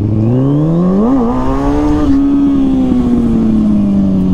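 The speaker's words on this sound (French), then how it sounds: "Donc j'accélère, je prends l'embrayage." A motorcycle engine revs hard and close as the rider accelerates for a stunt, pitch rising then holding in a loud steady drone.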